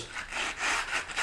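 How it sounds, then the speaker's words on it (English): Coarse sandpaper rubs along the edge of a model railroad track roadbed in several quick back-and-forth strokes, close and fairly soft, with no voices. "you get a piece of coarse sandpaper and just sand down the side to get all the boogers"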